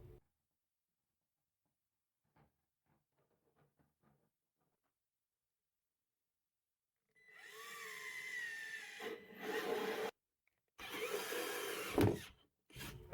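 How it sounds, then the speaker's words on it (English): A scroll saw cutting a small mouse-hole shape in MDF on a workbench build, a loud buzzing cut in bursts broken by short pauses, preceded by a few quiet taps. "brought it over to the scroll saw to cut out the little mouse hole"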